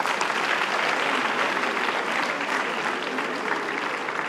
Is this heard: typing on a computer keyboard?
no